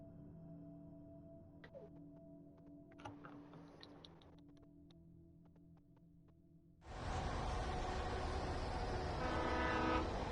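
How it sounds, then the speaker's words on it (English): A train roars past in Alan Wake Remastered, a loud, sustained rumble of rail noise that bursts in suddenly about two-thirds through after a quieter stretch of low ambient hum and scattered clicks. "Train?"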